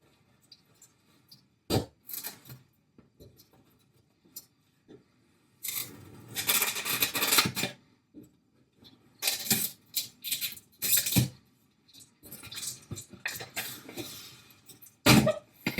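A knife slices and rips through packing tape on the box of a Ridgid 18V 12-inch chainsaw, making short, close scraping and tearing bursts separated by quiet pauses.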